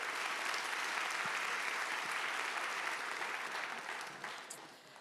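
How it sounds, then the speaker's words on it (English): A conference audience applauds a speaker before a lightning talk, a dense sustained burst of clapping that fades gradually toward the end. "Please have a huge round of applause for her,"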